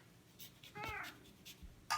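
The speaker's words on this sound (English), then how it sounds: "And there's my kitty." A domestic cat lets out a single short, rising-and-falling meow at close range, set against faint kitchen background noise during turmeric milk preparation.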